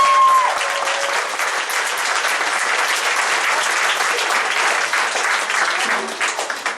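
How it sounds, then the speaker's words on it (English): Audience applause at an Ionian Orchestra concert greets Miss Live, a conductor: steady, dense clapping from a full hall that holds loud and even for several seconds before thinning out at the end. "Can you please give a round of applause for Miss Live?"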